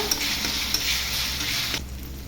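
Food fries in a pan with a dense, close sizzle while a utensil stirs through it, the hiss dropping off sharply near the end.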